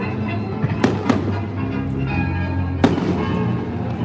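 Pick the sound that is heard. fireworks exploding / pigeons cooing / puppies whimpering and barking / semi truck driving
fireworks exploding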